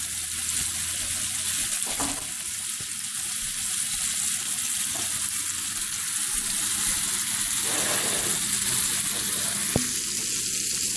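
Steaks frying in a pan, cooked to medium, with a constant loud sizzle and spatter running steadily throughout, with a few faint clinks.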